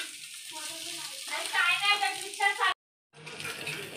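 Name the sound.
stirring dry potato sabzi in a pan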